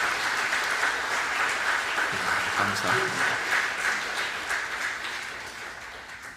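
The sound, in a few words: applause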